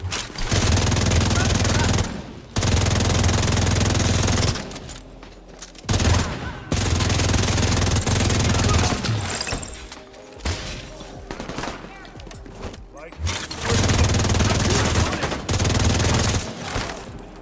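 The St. Elmo's Engine exotic assault rifle in The Division 2 fires at a 1414 RPM rate, letting out long, loud, rapid automatic bursts that cut off sharply, with short pauses and a few quieter gaps between them.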